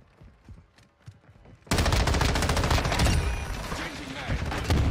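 Dense, loud Call of Duty gunfire erupts suddenly after a quiet stretch, sustained rapid automatic bursts filling the scene with little pause.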